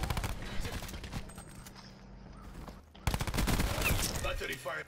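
Bursts of rapid automatic gunfire from a Call of Duty Black Ops 4 team deathmatch, loud, close and clattering, with a brief lull before a dense fusillade resumes.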